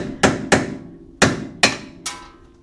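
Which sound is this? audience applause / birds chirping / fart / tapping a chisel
tapping a chisel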